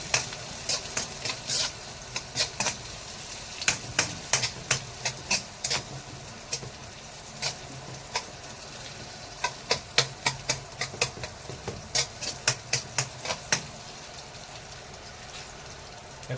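Onions frying with golden-brown garlic in a pan for chicken tinola: a steady sizzle under sharp, irregular clicks and scrapes of a utensil stirring, with no talking.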